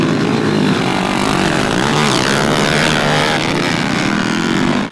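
Motocross and pit bike motorcycles racing at a competition in a village, a dense, loud, continuous engine roar and whine with shifting revs, as if several bikes are passing close.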